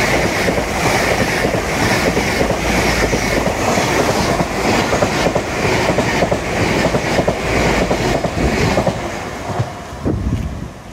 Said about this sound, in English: NHS train again, or the NHS livery on it anyway.